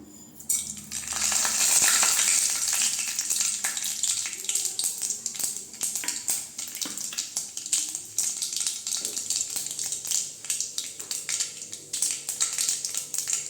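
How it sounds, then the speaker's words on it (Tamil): Mustard seeds and urad dal fry in hot oil for Tamil beans poriyal, giving a dense, close spatter of crackling pops that starts loud and then keeps up as an uneven sputter. "எண்ணெய் ஊற்றி வச்சுக்கிட்டேங்க இப்போ கடுகு உளுந்து பருப்பு சேர்த்துக்கலாம்"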